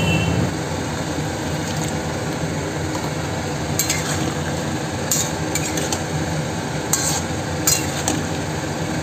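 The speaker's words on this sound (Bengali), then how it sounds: "লাস্টে একটু সর্ষে বাটা দিয়ে নেড়ে চেড়ে ঢেকে নামিয়ে নেব।" Snake gourd curry with mustard paste being stirred in a pan, a steady scrape of a utensil over a low sizzle with a few sharper clinks, close and fairly loud, no talking.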